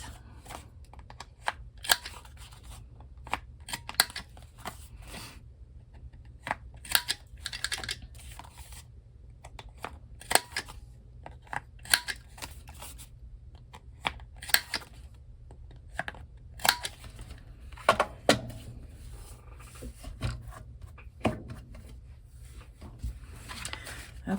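Scissors snip paper by hand for a craft journal, making quick, crisp cuts in irregular bursts over a low steady hum, close and fairly quiet.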